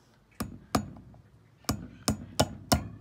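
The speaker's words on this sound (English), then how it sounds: "So hold your can firmly with your nail and hammer. Just quickly put those holes in" A hammer drives a nail through a tin can to punch holes, six sharp, close metallic strikes at an uneven pace with brief pauses, no talking.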